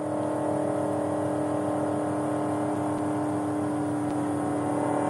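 A race car's engine hums in a steady, loud drone during a Richard Petty driving experience, heard from inside the car and holding an even pitch without sharp revs.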